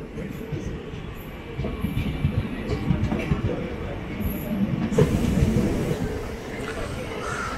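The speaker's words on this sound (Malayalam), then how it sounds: "ഓപ്പോസിറ്റ് ലൈനിൽ വന്ന് കോട്ടയം നിലമ്പൂർ എക്സ്പ്രസ് ആണ്." Kottayam-Nilambur Express rolling past on the opposite line near a station, a continuous rumbling clatter of wheels and wagons heard from inside a moving train, growing louder midway.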